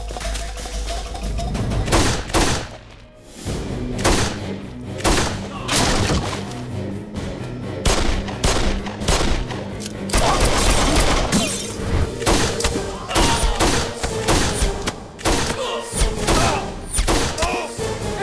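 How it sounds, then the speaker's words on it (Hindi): A movie action scene carries rapid bursts of gunfire, loud cracking shots and fusillades with booms and thuds repeating across the stretch, while voices shout briefly between volleys. "फायरिंग क्यों हो रही है?"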